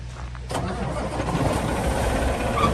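A 2020 Peterbilt 389 truck engine cranks and fires up, a short starter burst followed by a steady, loud diesel idle rumble heard up close outdoors with no talk.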